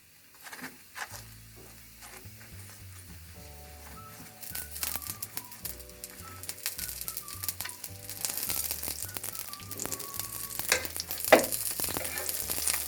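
A layered lacha paratha fries in a pan with ghee, giving a soft, continuous sizzle that grows louder partway through, largely masked by melodic background music.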